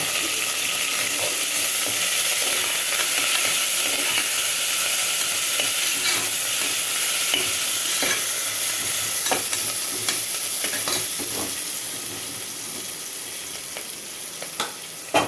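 Sliced onion, green chilli and curry leaves fry in hot oil for a Tamil chicken biryani and gravy, with a steady loud sizzle throughout and scraping stir strokes breaking through, easing slightly toward the end; no talking.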